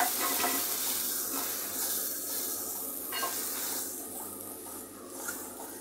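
Water poured into a pan of fried onion, garlic and spices gives a loud, continuous hiss and sizzle that slowly eases as it settles, with stirring underneath.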